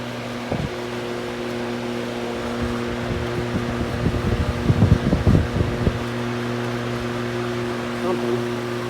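Lasko window fan running on high, a steady mechanical hum with an intermittent light rattle that grows busier midway, close by with no talking.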